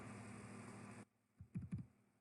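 Arrow keys on a computer keyboard are pressed a few times, producing soft close clicks in quick succession after a stretch of steady background noise cuts off.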